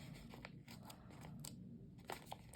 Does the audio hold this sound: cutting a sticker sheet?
yes